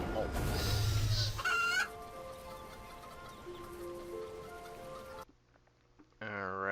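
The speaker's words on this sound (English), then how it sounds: "Alright, let's kill a couple more chickens here." Chickens in the video game RuneScape 3 cluck and crow loudly in the opening seconds, followed by game sound effects and tones, with brief synthetic chirps near the end.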